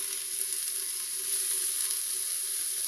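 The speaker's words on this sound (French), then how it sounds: "les petites saucisses, les faire revenir un petit peu" Small knack sausages fry with shallots in a pan, giving off a dense, even sizzle that holds steady and close throughout with no voices.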